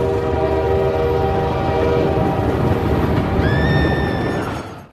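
A train rumbles steadily across a railway crossing bridge up close, with a sustained horn blast sounding near the end before the noise cuts off abruptly.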